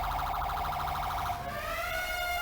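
A fire engine siren in the video game GTA V sounds loud and close, first with a rapid pulsing warble, then sliding into long rising and falling wails, with no voices.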